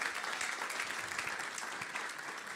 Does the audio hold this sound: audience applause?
yes